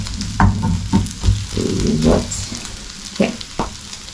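Pork sizzles in a pan without added oil, a steady frying hiss broken by louder scrapes and stirring knocks at irregular intervals, close and fairly loud.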